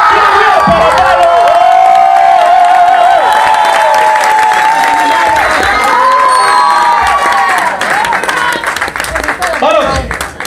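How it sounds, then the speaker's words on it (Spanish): A lively crowd at a locking dance battle cheers and claps for the winner, loud whoops, shouts and clapping filling the room, with a host talking over the noise and the roar thinning slightly near the end. "Pero señores, quiero un ruido a nuestro ganador."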